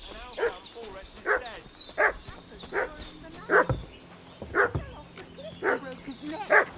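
A dog in the medieval video game Kingdom Come: Deliverance barks repeatedly in a steady rhythm of sharp, fairly loud yaps, about one every second, over faint background ambience.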